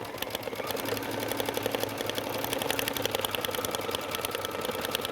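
A sewing machine stitches a bridal veil in a rapid, even mechanical whir with a steady needle rhythm, close and moderately quiet, running alone without talk.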